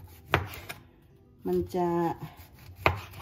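A knife cuts through a soft, spongy wild mushroom in a few crisp, close chops at the start and end, with a voice speaking briefly between them.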